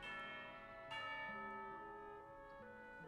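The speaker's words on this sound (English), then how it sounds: "You hear the sound of a bell." A bell in the Genshin Impact video game rings with a bright struck tone that hangs and slowly fades, heard faintly amid sustained layered game music.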